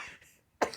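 One short, quiet cough bursts out near the end after a faint breath, close to the microphone.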